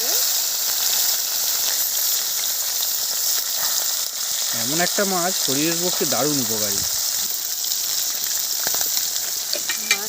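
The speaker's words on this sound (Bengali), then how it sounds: "তেল ঢেলে দিচ্ছি, মাছগুলো ভেজে নেব।" Small mourola fish fry in hot oil with a loud, steady sizzle that runs the whole time, while a person talks over it in the foreground.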